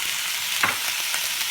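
Ground meat with olives being stirred in a hot pan, a broad steady sizzle with one brief louder scrape of the spoon partway through, close by and without speech.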